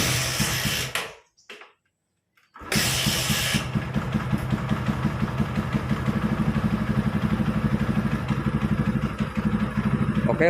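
A Yamaha Scorpio motorcycle engine cranks, cuts out for about a second, then starts and settles into a loud, steady, close idle with a rapid even pulse.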